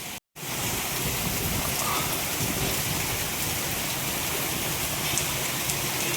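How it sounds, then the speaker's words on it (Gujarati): Heavy rain with wind pours down in Porbandar, a loud, unbroken roar of drops striking surfaces that starts after a brief silent gap and holds steady throughout. "ફૂલ વરસાદ ચાલુ પોરબંદર"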